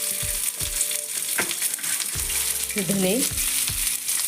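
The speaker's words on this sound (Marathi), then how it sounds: "ह्याच्यामध्ये मसाला भाजत आहे. त्यामध्ये थोडंसं कांदा असा फ्राय करून घ्यायचा आहे आपल्याला." Spice masala and chopped onion fry in a pan with a continuous crackling sizzle and occasional stirring knocks; someone briefly speaks over it.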